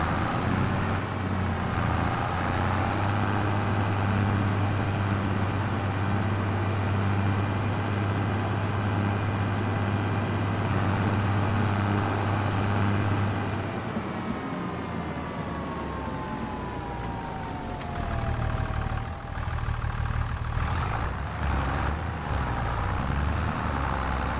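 Tractor engine in Farming Simulator 25 drives with a steady low droning hum and rising whine, dropping off near the end before resuming at a lower level, no talk over it.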